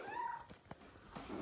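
A pet cat gives a soft, brief meow at close range, a quiet pitched call followed by faint rustling.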